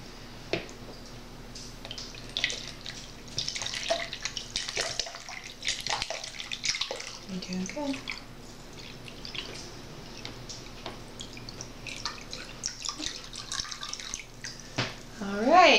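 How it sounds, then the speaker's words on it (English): Water poured from one container back into another during a homemade spirometer lung-capacity experiment, heard as faint trickles and drips in a quiet room with scattered small knocks and handling sounds. "Okay, so pour the water from here back into here."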